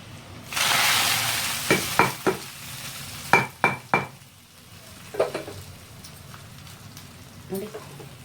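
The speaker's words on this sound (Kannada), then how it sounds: "ನೋಡಿ ಸಾಸಿವೆ ಸಿಡ್ದೈತಿ" Mustard seeds, garlic, curry leaves and dry chillies sizzling in hot oil as a tempering for rasam rice. A short burst of frying hiss is followed by several sharp metal spoon clinks against the pan, close by.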